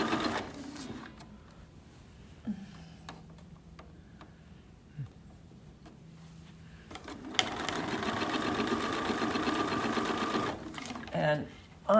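A sewing machine fitted with a walking foot stitches binding onto a Minky quilt, running in a steady close mechanical whir for several seconds after quieter ticking, with a voice talking over parts of it.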